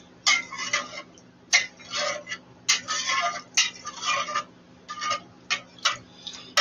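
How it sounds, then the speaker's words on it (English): Spoon stirring ingredients in a cooking pot, a series of short scraping and clinking strokes in uneven rhythm, close and moderately loud, with no talking. "Let's stir that in."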